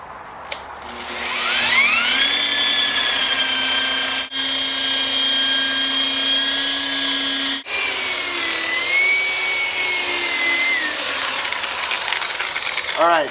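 An angle grinder fitted with a gray pre-polish disc whines at a high, steady pitch as it polishes a surface, with the tone rising and falling slightly under load and two brief dips where contact breaks.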